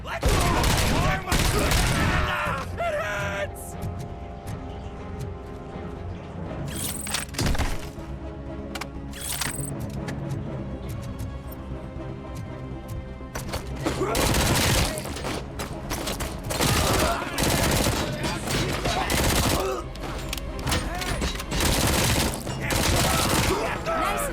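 Gunfire rings out in the Robocop: Rogue City video game, with repeated sharp loud shots and bursts from an AI partner mixed with game music and impacts over about twenty-four seconds, dense and close throughout.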